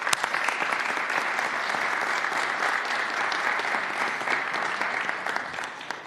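An audience at a New York public event applauds the National Guard with steady, dense clapping that holds for about six seconds and tapers slightly at the end.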